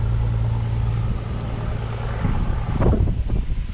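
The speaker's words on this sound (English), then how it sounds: "There's a little wind in the air today in Bayou La Batre, Alabama" Wind gusts outdoors in Bayou La Batre, Alabama, a loud, continuous buffeting roar across the microphone with a low steady drone beneath.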